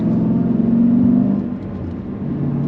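A 2012 Dodge Challenger SRT8 392 with a six-speed manual revving up through the gears, a loud close engine drone rising then dropping as a shift comes through.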